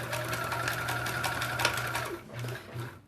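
Sewing machine stitching a seam on a small fabric ornament and backstitching, a close steady mechanical whir with rapid needle clatter and a low motor hum that stops and restarts briefly near the end.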